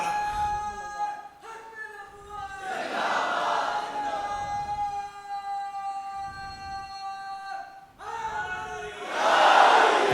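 A crowd chants in loud, rhythmic unison, rising and falling in waves, with a strong surge of voices near the end.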